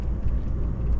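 A vehicle's wheel drops back down with a low rumbling thud over a steady engine and road drone inside the vehicle, brief and close, with no voices.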